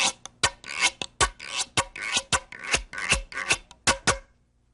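Scraper dragged across a long hollowed-out gourd percussion instrument, about a dozen crisp raspy strokes in a steady rhythm, close and alone.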